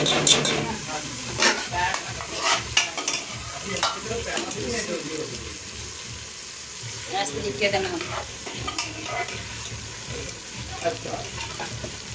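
Meat frying with onion, ginger and garlic crackles and sizzles close up, with frequent spoon stirs and scrapes in uneven bursts, while a person talks intermittently over it.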